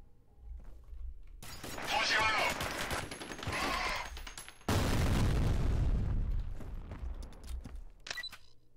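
Gunfire and blasts in the video game F.E.A.R., a shotgun after a grenade stun, come as loud, dense bursts: a long rattling stretch of shots, then a heavy booming roar that slowly fades, with a few sharp hits at the end.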